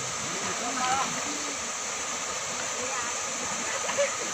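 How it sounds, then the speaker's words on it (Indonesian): Steady rushing of a river, the Sungai Lembu at KM 106 in a forest, a continuous broad wash of flowing water heard at moderate level with faint voices murmuring underneath. "Sungai yang kita seberangin ini."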